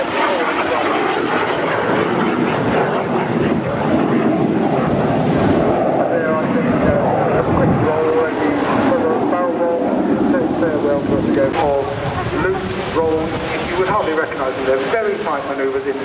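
A small display airplane manoeuvres at full power at the Southend Airshow, its engine roaring loud and continuous for the whole stretch, mixed with heavy wind buffeting and a commentator's voice over the public address.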